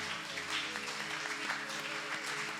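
A church congregation applauds in a soft, steady patter of clapping, faint and somewhat distant, lasting a few seconds.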